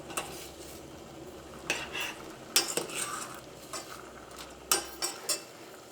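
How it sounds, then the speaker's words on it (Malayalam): Chicken curry being stirred in a pot, with scattered scraping and clinking strikes of a spoon against the pot at an irregular pace, moderately faint and close, with no voices. "ഇനി നമുക്കൊന്ന് ഇളക്കിയിട്ട് കൊടുക്കാം."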